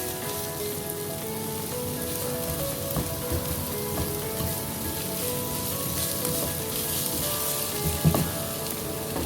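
Spices for palak paneer masala frying in a pan, a continuous close sizzle like light rain with occasional stirring clicks and a soft scrape, no one talking.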